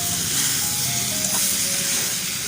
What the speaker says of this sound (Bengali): তো এখন লবণ হলুদ দিয়ে আর একটু ভেজে নেব